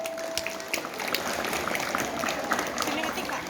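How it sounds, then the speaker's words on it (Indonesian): An audience at a drug-abuse prevention talk claps in a dense, steady patter of applause lasting a few seconds, with voices mixed in underneath. "Tepuk tangan semuanya"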